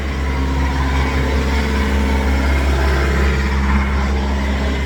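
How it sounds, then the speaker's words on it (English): Delivery trucks idling and working on a waterfront street beside a grill and boat docks give a loud, steady engine rumble with a deep low hum, continuous throughout and with no talk over it. "We've got delivery trucks delivering here on the street."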